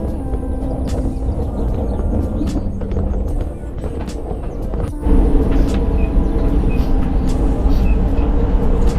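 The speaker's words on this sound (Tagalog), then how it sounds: "Sa tren na kami tulog si Baby." Interior of a moving train, a loud, steady rumble and rattle of the carriage with a slight jolt midway, then the roar grows louder, with faint voices in the background.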